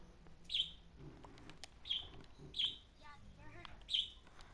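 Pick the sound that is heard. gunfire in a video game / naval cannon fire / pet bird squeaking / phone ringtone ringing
pet bird squeaking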